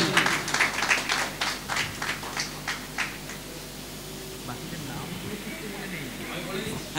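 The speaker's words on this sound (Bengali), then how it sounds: "জোরে হাততালি।" A crowd at a stage ceremony bursts into loud, rapid clapping that rings out strongly at first, then fades into quieter scattered claps while someone talks over it.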